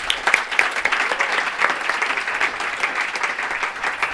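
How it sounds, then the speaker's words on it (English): A crowd at an impact investing evening event breaks into sustained, lively applause, dense clapping holding steady for several seconds with a few cheers mixed in. "So please, a big round of applause to Morgan Simon."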